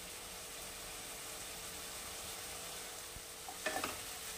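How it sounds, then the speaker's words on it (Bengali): Onions frying in a pan for a restaurant-style mixed vegetable dish, a soft steady sizzle with faint stirring, followed near the end by a few clearer scraping clinks of a utensil. "পেঁয়াজ অল্প সামান্য ভাজা হয়েছে, কালারটা চেঞ্জ হয়ে গেছে।"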